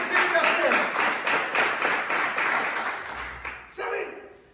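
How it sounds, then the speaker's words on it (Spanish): A church congregation breaks into dense applause that holds for a few seconds, then thins and stops as a voice takes over. "Denle un aplauso a Jesús."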